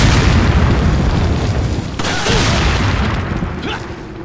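Bombs exploding in Resident Evil 4, with loud booming blasts and rumbling bursts in close succession, one sharp detonation near the middle, fading into lingering crackle.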